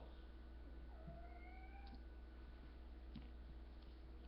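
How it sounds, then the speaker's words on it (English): A house cat gives one drawn-out meow, then a second short one, both faint and heard alone over a low, steady indoor hum. "My cat just meowed and scared me."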